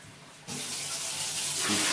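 A tap turns on and cold water runs steadily into a sink, a loud continuous splashing rush that grows slightly fuller toward the end.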